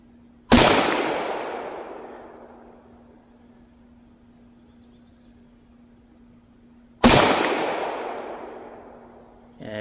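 Two loud, sharp gunshots from a Tisas 1911A1 pistol at an outdoor shooting range, spaced about six seconds apart, each with a long fading echo.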